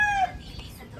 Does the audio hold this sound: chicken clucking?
yes